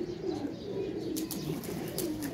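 Pigeons cooing at a rooftop loft, soft repeated low coos layered close together with a few faint chirps and wing flutters toward the end, no speech.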